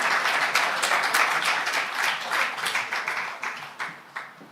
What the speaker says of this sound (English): Another round of applause to Guchu for giving us thanks